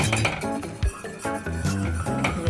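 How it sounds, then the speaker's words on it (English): A spoon stirring ingredients in a bowl until they dissolve, during home cooking of a Jamaican-style meal, gives repeated light clinks and scrapes of metal against dish in an uneven rhythm, close and clear with no talk. "So what we're gonna do is mix this until everything is dissolved."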